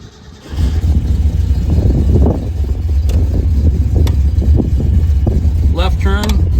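Engine of a fuel-injected 1966 Mercury Comet Cyclone GT muscle car catches after a brief start and settles into a loud, steady rumble, with someone talking over it.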